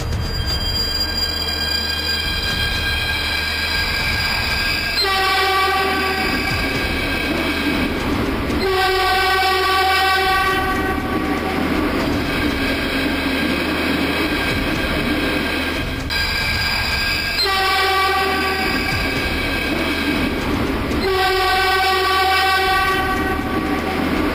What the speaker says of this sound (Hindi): इस नई ट्रेन को दिल्ली के लोग 2016 से मेट्रो की पटरियों पर दौड़ते देखेंगे।